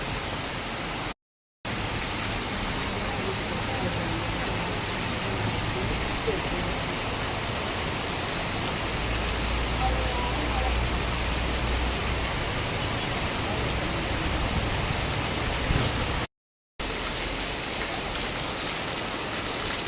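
Heavy rain pours steadily, a dense, continuous hiss with a low rumble underneath, broken by two brief silent gaps.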